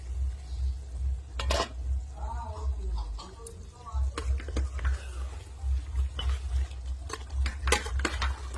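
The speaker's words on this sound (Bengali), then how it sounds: "তো এখন চলছে চিকেন কষানো।" Chicken is slowly stir-fried on low heat in a pan at an outdoor village cooking spot, with sharp, irregular clinks and scrapes of a spatula against the pan over a steady low rumble.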